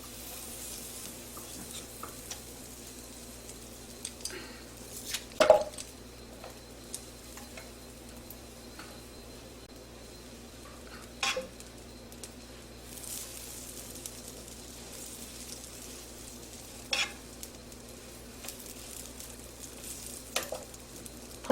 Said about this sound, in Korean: 후라이팬에 버터를 넣어주겠어요.